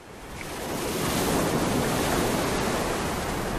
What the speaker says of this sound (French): il leur faut apprivoiser le violent ressac de la côte